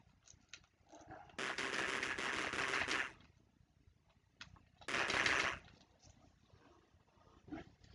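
Two bursts of rapid gunfire from an Amstrad shooting game, each lasting a second or two and separated by brief quiet, with scattered clicks around them and no talking.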